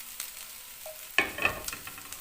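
Vegetables with shredded cabbage stir-frying for chow mein, a sudden burst of sizzling and stirring that continues in scattered clatters and hisses, close and fairly loud.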